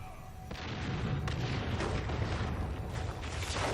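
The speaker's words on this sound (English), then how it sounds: "It summons warp fire" Warp fire spell summoned in Dawn of War 2: Chaos Rising, a sustained roaring, crackling rumble with bursts, swelling after a brief quieter start and holding steady and fairly loud throughout.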